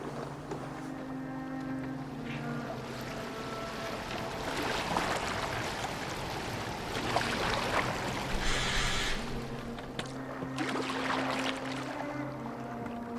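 A boat moves over water in the video game Assassin's Creed Valhalla, with steady rushing water and wind, soft creaks and splashes, and a background music bed throughout.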